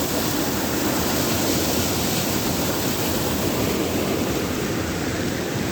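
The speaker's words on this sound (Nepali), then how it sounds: "हिजो रातिको अविरल वर्षाको कारण यो सानो खहरे खोला पनि यति ठुलो आइरहेछ" A small seasonal stream swollen into a flood after a night of continuous heavy rain roars loudly and steadily nearby, a dense unbroken rush of water.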